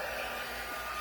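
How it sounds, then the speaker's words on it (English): An embossing heat tool warming up blows a steady, even whoosh of hot air, constant and close with no breaks. "It is a heat tool. It gets very hot, like over 400 degrees."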